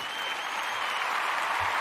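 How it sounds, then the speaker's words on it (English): A group applauds continuously, a dense, even patter of clapping that holds steady from start to finish. "Clap it up."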